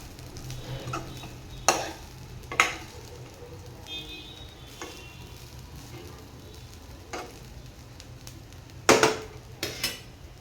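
Egg fried rice with spring onion and black pepper being stirred in a pan, with a soft steady sizzle broken by several sharp scrapes and clinks of a utensil against the metal.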